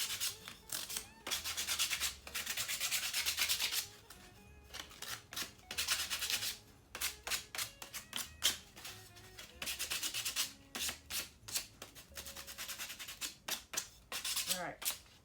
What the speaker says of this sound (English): You're just going to want to sand your edges a little bit.